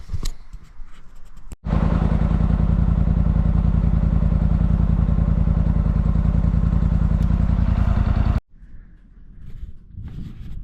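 A 2024 Polaris Sportsman XP1000 Hunt Edition ATV engine, newly bought and being broken in, runs steadily and loud up close for about seven seconds, a low rumbling idle with rapid regular firing pulses, cutting off abruptly into quiet.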